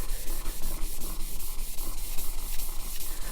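Chisel being sharpened on a wet sharpening stone, a rhythmic gritty rasping of long back-and-forth strokes, close and steady, with no speech.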